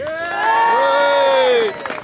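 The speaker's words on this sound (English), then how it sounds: "Give yourselves a big round of applause." Cheering and whooping from a crowd gathered outdoors for a green belt protest rally, a loud swell of many voices that holds for over a second before dropping away, with clapping faintly beneath.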